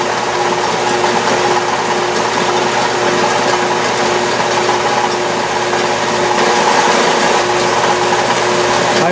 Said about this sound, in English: I'm using power feed, and I'm feeding away from me.